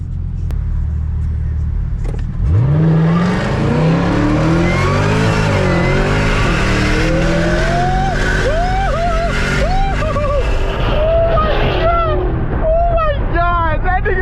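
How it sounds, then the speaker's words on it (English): A Camaro ZL1 and a Cadillac CT5-V Blackwing launch hard from a traffic light in Dallas, engines roaring loud and close with rising revs through several gear changes, voices talking over the noise. "I'm gonna do a little pull right here, y'all. Zl1 versus the Blackwing. Let's see who wins. Take off at the light."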